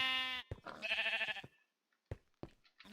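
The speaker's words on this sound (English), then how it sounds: "We have our sheep. Hello, sheep." A sheep in the video game Minecraft gives a loud, wavering bleat, followed by a few short, softer sounds after a quiet gap.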